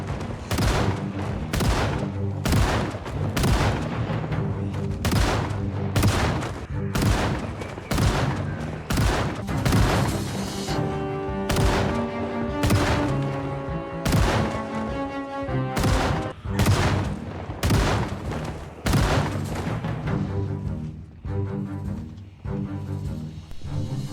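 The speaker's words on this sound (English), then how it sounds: "My arm was hurting badly from all the shotgun blasts." Repeated shotgun blasts from the video game Project Zomboid, loud sharp booms firing in a rapid, steady rhythm with a musical tone running underneath.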